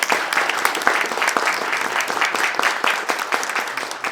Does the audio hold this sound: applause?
yes